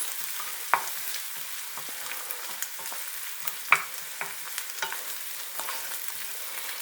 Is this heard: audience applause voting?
no